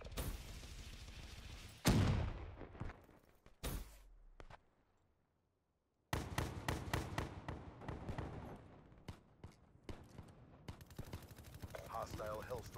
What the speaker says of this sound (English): Hostile hellstorm overhead.